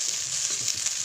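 Cooked rice fries in a pan with a soft, continuous high hiss of sizzling oil, close and fairly quiet, broken by faint scraping as it is moved about.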